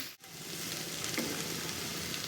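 Onion stalks stir-frying in a pan, a steady close crackling sizzle with light scraping from stirring, heard alone without talk.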